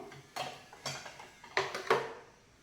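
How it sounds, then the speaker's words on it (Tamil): Knife cutting rolled dough on a board for aval kolukattai or paratha, heard as four separate short clacks of the blade hitting the surface, close and moderately loud, with no talking. "அதுக்கப்புறம் நைஃப் எடுத்து கட் பண்ணிக்கணும்"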